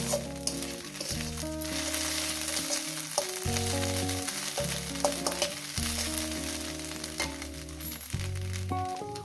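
Greens and fish fry in a hot pan, sizzling and crackling steadily, a continuous frying hiss running beneath loud music.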